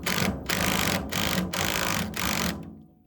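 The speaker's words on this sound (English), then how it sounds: "I'm gonna put a brand new nut on it that came with the shear pin." A new nut being run down onto a shear pin bolt makes a loud, close, continuous whirring rattle in four long bursts with short pauses between them, the way a power driver sounds, with no voices.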